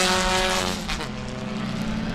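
Race cars roar continuously through a 20-minute championship race at Sebring, engines droning at high revs with layered tones as cars pass, a steady loud wash of motorsport noise.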